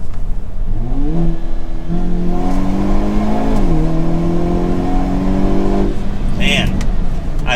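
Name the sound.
2023 Hyundai Kona N launch control acceleration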